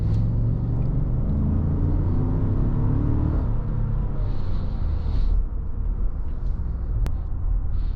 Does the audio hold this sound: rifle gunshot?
no